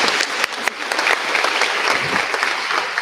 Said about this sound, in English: Please give them a round of applause for boys volleyball